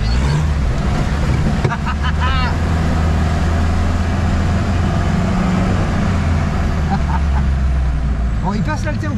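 A 4x4 off-road vehicle crawling through rough terrain holds a steady, loud low engine drone under throttle, with people talking over it throughout.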